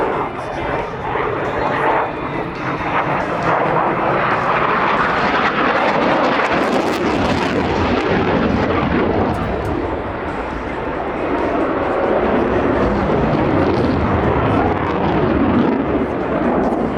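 An Italian Air Force Eurofighter Typhoon flies an air display, its jet engines a loud, continuous broadband roar that swells and holds throughout, with a commentator speaking over it.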